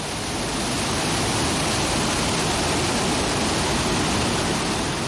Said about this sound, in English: The water from the weir runs under the houses and comes out here.